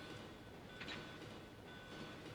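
A train from the video game Resident Evil 2 runs with a steady low rumble and faint rattling, a quiet continuous mechanical drone throughout with no voices.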